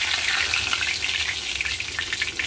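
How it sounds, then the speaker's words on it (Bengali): Fish frying in a pan, a steady dense sizzle and crackle of hot oil running continuously and fairly loud throughout, with no voices. "সেই মাছটাকে ভেজে নেবো"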